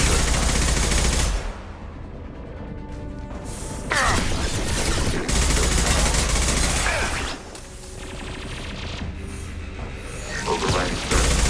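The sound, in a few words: turret gunfire in the video game Mass Effect 2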